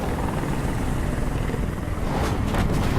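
A helicopter in the video game Detroit: Become Human makes a steady, loud rotor chop with dense whooshing thrum, continuous and close.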